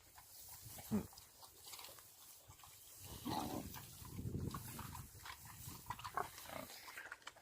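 A big boar at feeding time on a farm grunts and snorts among other pigs, with snuffling, chomping, and a louder run of low grunts midway, close and moderately loud over quiet outdoor background.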